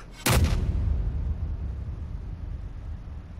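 A single loud gunshot in Modern Warfare Remastered cracks near the start, then a long booming echo and rumble slowly fades beneath steady background noise.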